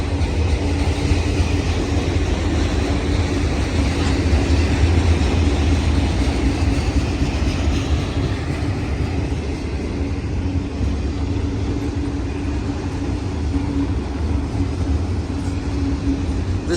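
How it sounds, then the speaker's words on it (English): A Union Pacific auto rack freight train rolls past in Reno, Nevada, a loud, continuous rumble and clatter of rail cars with wheel noise. It holds steady and close throughout with no pause or speech. "This train is coming out the trench, passing up downtown Reno and the Reno Amtrak station."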